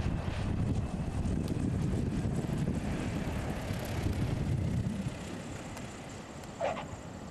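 A Piper Cherokee 150 light aircraft coming in to land in wind, with a steady engine and wind roar that holds for about five seconds and then eases off into a quieter tail.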